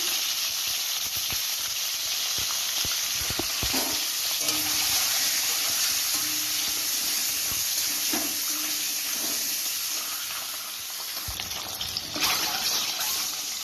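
Steady hissing sizzle of eggs frying in hot oil in a wok for egg curry, with a few soft knocks and scrapes of a pan.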